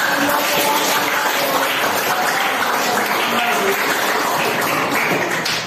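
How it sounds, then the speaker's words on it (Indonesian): Steady applause fills a classroom after a group finishes a persuasive speech presentation, a dense even patter of many hands clapping at once, loud and sustained throughout without breaks. "tepuk tangan"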